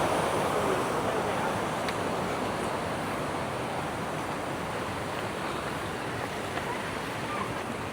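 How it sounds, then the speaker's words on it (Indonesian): A river running beside a trail on a trek up Mount Ciung, giving a steady, broad rushing wash of water that stays loud and even from start to finish. "Wih, udah nyampe di sungai."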